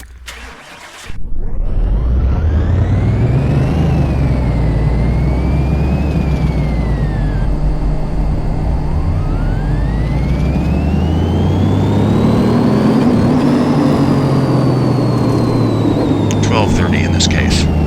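A 1,300 horsepower car engine in Car Mechanic Simulator 2018 starts with a sharp burst, then holds a loud steady drone with rising and falling revs, close and continuous over about sixteen seconds.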